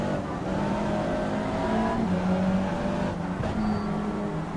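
Engine note of a Mitsubishi race car in the Stock Car Extreme simulator, a steady droning whine that shifts pitch as the car revs and changes gear, continuous and fairly loud with no talk.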